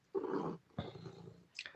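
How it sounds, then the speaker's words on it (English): A house cat meows loudly and close during a video call, two drawn-out calls followed by a short third one, with no speech over them. "can you guys hear the cat?"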